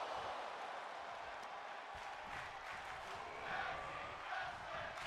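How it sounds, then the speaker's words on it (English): A virtual arena crowd in the wrestling game WWE 2K22 cheers during a tag team match, a steady, dense roar that swells slightly without letting up. "And the crowd's loving this one."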